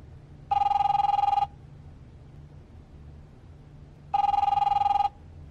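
In The Wolf Among Us, an electronic telephone ring sounds twice in about one-second bursts with a long gap between them, loud and clear over a low hum.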